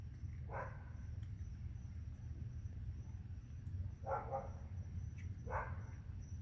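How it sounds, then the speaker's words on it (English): A dog barking somewhere outside while a raccoon eats: three short, faint, distant barks spread out over a constant low rumble of background noise. "that dog has been barking now."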